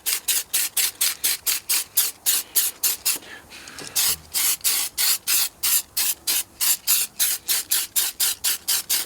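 Spray gun with a small nozzle coating an RC car body, giving rapid regular bursts of hissing spray, about two per second, near and loud, with a short pause partway through.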